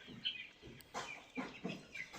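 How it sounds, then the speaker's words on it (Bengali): Layer chickens, 38 days old and sold as A-grade stock at a poultry farm, give soft, scattered clucks in short bursts, faint and fairly close, with no talking. "আপনারা চাইলে ক্যামেরার সামনে যে মুরগিটা দেখতেছেন এই মুরগিটা ক্রয় করতে পারেন"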